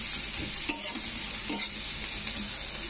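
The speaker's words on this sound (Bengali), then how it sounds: "তো যতক্ষণ না পেঁয়াজের মানে পেঁয়াজটা একটু ব্রাউন করে ভেজে নিতে হবে।" Onions and chopped green chilli fry in a pan for a South Indian chau chau curry, a steady close sizzle with a couple of soft stirring scrapes and no talking.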